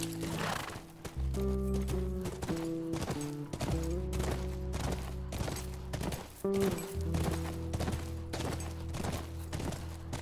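Horse hooves clip-clopping in the video game The Last of Us, a steady run of sharp hoof hits over sustained low music-like tones and a whinny, fairly loud and continuous throughout.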